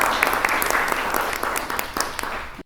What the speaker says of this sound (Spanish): uma salva de palmas de boas-vindas